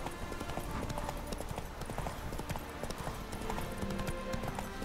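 Horse hooves clip-clop in a steady running gait as Roach gallops through The Witcher 3: Hearts of Stone, a dense, continuous rhythm of hoofbeats close by under ambient game background.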